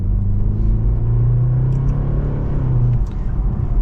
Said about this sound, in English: we are setting off now in the new 5 Series